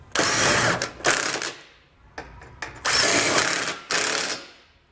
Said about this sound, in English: go back and tighten them down with a 17mm socket